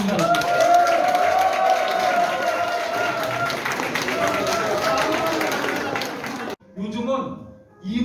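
Group clapping fills a company workshop warm-up session, dense and loud for several seconds before stopping abruptly, with voices mixed in and speech after.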